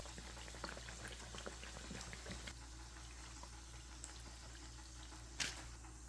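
Custard donuts deep frying in medium-hot oil give a soft, continuous bubbling fizz, fairly quiet and even throughout, with one brief brighter crackle near the end.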